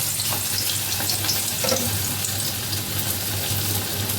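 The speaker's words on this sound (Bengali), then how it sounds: "তো আমি এখন একটু পেঁয়াজগুলো ভেজে নিই" Onions fry in a pan for a shrimp lentil fritter snack, a dense steady sizzle close by with faint stirring, no voices.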